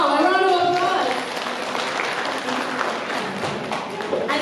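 A conference audience at a women in agribusiness event applauds after a table group's presentation, the clapping rising briefly under a speaking voice and then thinning to a moderate, scattered patter.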